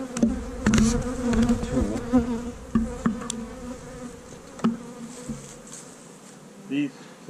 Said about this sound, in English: And the bees are still pretty hopped up